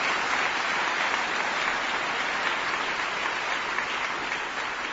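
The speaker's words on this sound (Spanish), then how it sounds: "volviendo a aplaudir a Claudia Bobadilla" A studio audience at a live Intelligence Squared-style debate on inequality applauds Claudia Bobadilla, a dense, steady wave of clapping that holds at full strength through the whole stretch with no voices over it.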